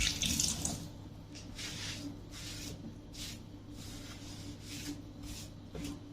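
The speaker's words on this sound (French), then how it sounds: "Donc, je lave mes mains." Tap water runs steadily into a kitchen sink as hands are washed after making a plain yogurt cake batter, a continuous close hiss with faint splashing and a few brief surges, no talking.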